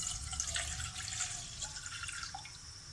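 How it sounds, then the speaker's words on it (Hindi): Two cups of water poured from a cup into a saucepan set over a gas flame for Irani chai, a steady close splashing trickle running the whole time with no talking. "2 कप पानी डाल दिया इसमें।"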